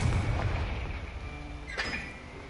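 A Confringo fire spell in Hogwarts Legacy, a loud rumbling blast at the start that decays, followed by a sharper crackling burst partway through over steady game background.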